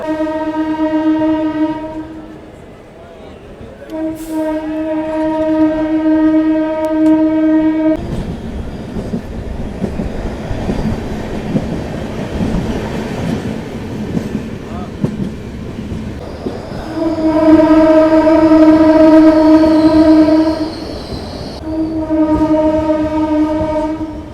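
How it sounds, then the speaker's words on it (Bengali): A train pulls into Kharagpur Junction railway station with long loud horn blasts, a pause of rumbling wheels and clatter between them, then more sustained horn blasts over the rolling noise. "এই মুহূর্তে আমার ট্রেন ঢুকছে খড়গপুর জংশন রেলওয়ে স্টেশন"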